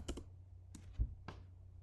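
A command typed on a computer keyboard, three or four quiet, close key clicks spaced irregularly over a brief moment with no talk.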